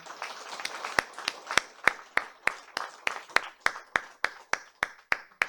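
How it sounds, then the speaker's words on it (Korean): A church congregation claps in slow, even unison, about a dozen sharp, loud claps roughly every third of a second over a softer ragged patter of scattered hands. "박수합니다."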